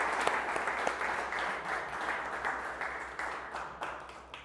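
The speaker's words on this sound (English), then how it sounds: "let's give these guys all a nice round of applause" Steady applause from the audience at a spring sports player of the year award ceremony, dense clapping at a faint, slightly distant level over a low background hum, tapering toward the end.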